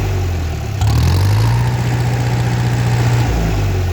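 A DT-54 tractor engine idling close by, a steady low rumbling chug with a rhythmic pulse that rises slightly in pitch after the first second and holds evenly before dropping back near the end.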